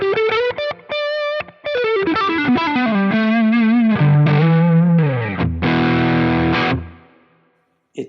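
Overdriven electric guitar, a Fender American Vintage II 1965 Stratocaster, plays a fast melodic run, sliding phrases and a sustained chord that fades out, with a warm, slightly loose, flubby Dumble-style distorted tone.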